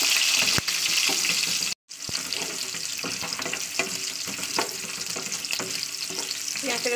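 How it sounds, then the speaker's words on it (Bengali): A whole onion fries in hot oil with whole cumin and dried chillies, giving a loud, steady sizzle broken by spoon-scraping stirs and crackles, with a brief cut to silence early on. "পেঁয়াজটাকে লাল করে ভাজা করে নিতে হবে।"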